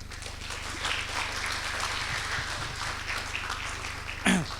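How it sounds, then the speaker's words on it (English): Faint, diffuse applause from an audience at a medical conference on phacoemulsification, a soft steady clapping over a low hum, with a brief louder clatter near the end. "after every talk, there is some applause"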